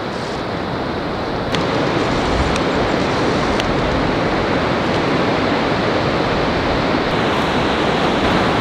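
Heavy surf breaks continuously on a fog-bound New England shore, a loud, steady broadband roar of big waves with no gaps and no voices.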